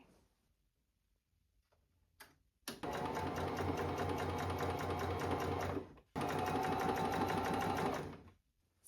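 A sewing machine running a straight stitch across sheer fabric: a steady, loud mechanical whir that runs for about three seconds, stops briefly, then runs again for a similar stretch, close and alone.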